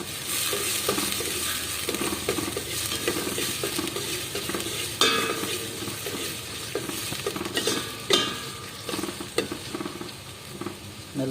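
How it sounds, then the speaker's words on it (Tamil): Onion and garlic sauté in a pan for an agathi keerai sodhi, with a constant close sizzle and frequent scraping stirs of a spatula against the metal, ending in a few sharper clinks, and no voices. "நல்லா வெங்காயம் பூண்டு எல்லாம் நல்லா வதங்கிட்ட பிறகு"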